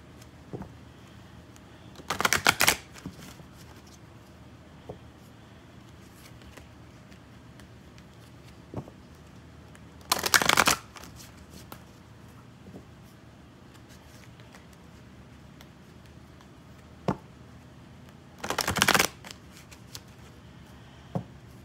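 Tarot cards are shuffled in three short, crisp bursts spaced several seconds apart, heard close in an otherwise quiet room with faint occasional taps between them.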